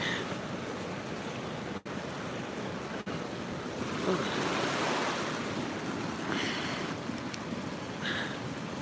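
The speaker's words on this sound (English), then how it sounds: "You can probably hear the flooding." Flash-flood water roars through a flooded creek at a campsite, a loud, steady, broadband rush that fills the whole stretch, with no voices over it.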